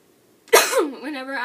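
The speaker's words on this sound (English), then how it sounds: "I'm sorry, I had to cough" A single sharp cough bursts out close by, trailing into a short voiced rasp.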